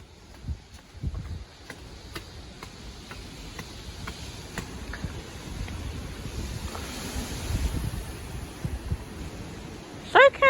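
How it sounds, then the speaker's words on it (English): Strong outdoor wind in gusts reaching 45 mph, a steady roaring rumble buffeting the microphone and building toward a louder surge, with a few faint knocks and clatters and a sharp clang at the end. "this wind is crazy"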